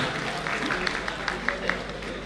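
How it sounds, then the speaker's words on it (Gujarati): A crowd at a school award ceremony claps, a steady wash of applause with a few sharper individual claps standing out near the front. "મહેશભાઈ ચૌહાણને જોરદાર તાળીઓના નાદથી વધાવીએ"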